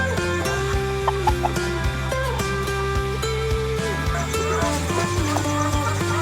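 A pair of blue white dot chickens cluck in a coop, with scattered short clucks and scratching sounds under continuous background music.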